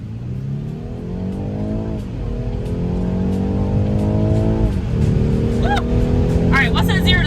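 A BMW 430i with a four-cylinder engine accelerates through rising gear pulls, its engine note climbing, dropping at shifts and climbing again. The engine is loud and steady throughout, with faint chirps near the end and people talking over it.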